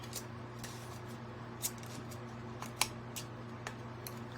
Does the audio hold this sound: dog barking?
no